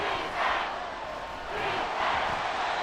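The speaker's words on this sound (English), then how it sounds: "This crowd turning up the decibel level." A virtual stadium crowd in the American football game Madden NFL 24 roars in broad swelling waves, loud and continuous, rising and falling twice over the span.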